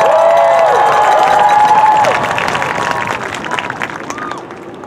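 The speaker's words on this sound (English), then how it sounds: "let's give them a huge cheer while they start the Red Deer Royals!" Crowd cheering and applauding at the Our Lady of the Rockies Marching Invitational 2022 as the Red Deer Royals marching band begins its field show. The noise is loud and sustained, easing gradually toward the end, with tonal whistles or horn-like notes rising above it.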